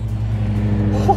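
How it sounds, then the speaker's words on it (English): A Pininfarina Battista and a McLaren Senna GTR hypercar travel on a public road in traffic, giving a short, loud, close engine rumble with a low steady drone and a slight rise at the end. "We got a Pininfarina Battista and the Senna GTR being"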